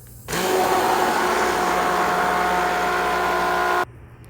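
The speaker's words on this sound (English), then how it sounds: "now we're just going to pour the water in and immediately hit it with the emulsion blender" A handheld emulsion blender whirs steadily for about three and a half seconds as water is blended into a homemade hair butter, starting and stopping abruptly and running loud and close with no talk.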